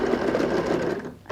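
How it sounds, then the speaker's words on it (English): A sewing machine runs steadily as it stitches the seam of a fabric laptop case sized for a 15-inch laptop. The whirring is loud and close, then drops off near the end as the stitching stops. "Then you sew over a little extra where you started and you finish."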